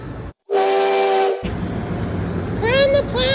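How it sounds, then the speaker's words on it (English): An Acela train pulling out of Union Station sounds a long steady horn blast, then a loud rolling rumble fills the platform, with squealing tonal whines rising near the end. "Come on, let's go to the platform to watch the Acela train leave."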